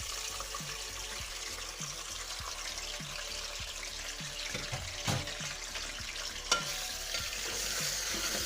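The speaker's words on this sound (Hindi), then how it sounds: "गोश्त जो है ये डालेंगे इसमें और इसको अच्छी तरह से फ्राई कर लेंगे" Chicken pieces frying in hot oil in a karahi, with a continuous close sizzle and rhythmic low knocks of stirring, plus a couple of louder clatters.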